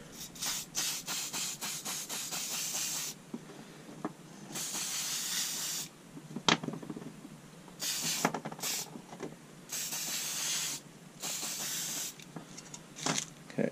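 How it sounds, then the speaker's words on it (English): Aerosol can of Dirty Down nicotine yellow ageing spray: repeated loud hissing bursts of a second or two each, separated by short gaps, with a few clicks and rubbing sounds between sprays. "Let's give it a spray."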